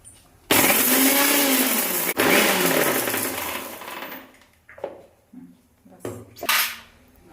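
A kitchen blender grinds two red chillies and garlic into paste, a loud continuous whirring roar that cuts off, restarts briefly, then gives way to short bursts and a few clinks of the jar.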